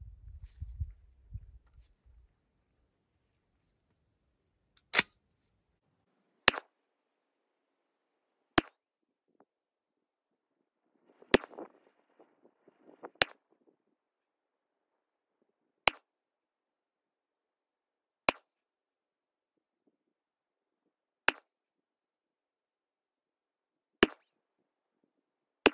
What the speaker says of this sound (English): I'm gonna put 10 rounds through it.